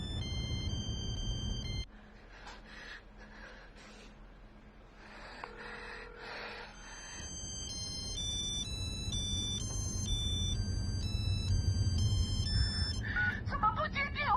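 An unanswered telephone rings with a repeating electronic melodic ringtone, rising clearly after a quieter, muffled stretch in an indoor drama scene, with no talking.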